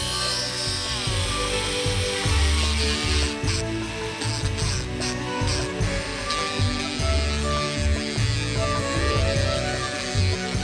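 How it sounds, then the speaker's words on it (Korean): A rotary tool carves and shapes a human figure model built up with resin for a movie-scene diorama, giving a loud, steady high whine with rhythmic bursts and grinding as the bit bites in, with no speech. "또 깎아서 모양을 다듬어 줍니다."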